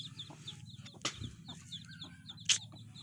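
Village chickens cluck softly and repeatedly in a quiet yard, with one sharper squawk and a brief flutter of wings standing out over the faint, steady background.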